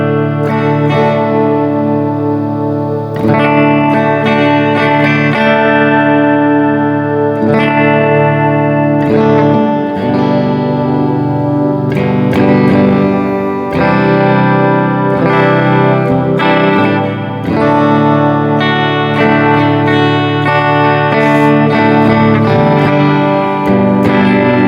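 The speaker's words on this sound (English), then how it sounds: "Get yourself a nice reverb and delay, and just play some nice calm." Calm, sustained instrument notes washed in reverb and delay, layered chords ringing out with long echoing tails, loud and continuous with no talking.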